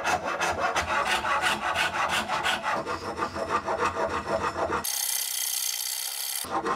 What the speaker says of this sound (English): hand files and rasps are a lot slower